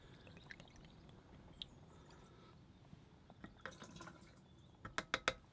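Milton sterilising fluid poured from its cap into a caravan toilet flush tank, faint dribbling and dripping that ends in a few sharp, louder splashes near the close.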